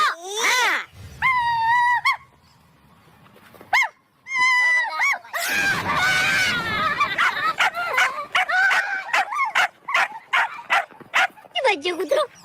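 A dog barks and yips in short, close bursts with whimpering pitch, mixed with loud people talking over and between the barks.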